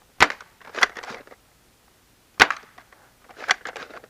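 A Nerf Hegemon blaster fitted with a Jet Alpha kit and a Nerf Turf spring fires darts, sounding as sharp close snaps with short clattery rattles after each, in bursts separated by a clear gap of silence.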